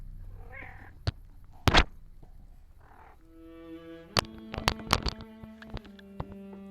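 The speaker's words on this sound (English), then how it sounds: "By the way, that's my cat Oya." Oya, a pet cat, gives a couple of short, soft meows near the microphone, followed by a cluster of sharp taps and knocks close by.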